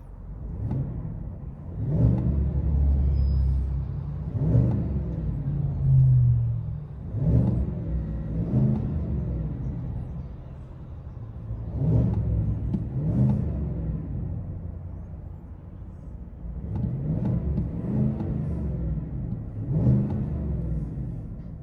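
Interior cabin sound of a 2024 Chevy Silverado RST with a 5.3L V8 and Borla Atak crate muffler: a deep, clean rumble swelling in repeated revs and accelerations, steady and close with no rasp and no talking.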